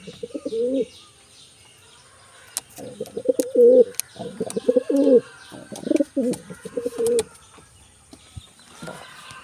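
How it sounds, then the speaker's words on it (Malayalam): Ash-grey pigeons coo in a series of close, throaty, rolling bursts broken by short pauses, with light chirps and no talk. "പ്രാവ് വരുന്നത് വെണ്ണീര് കളറാണ്."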